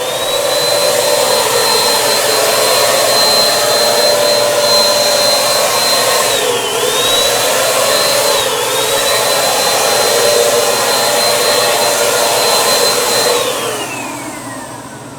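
A pretreatment spray gun's motor runs steadily while spraying a black garment before printing, a loud constant whine and hiss that dips briefly mid-way and winds down near the end, with no talking.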